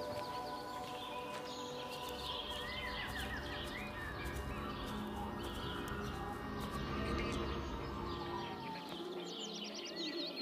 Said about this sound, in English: But we hear lots of birds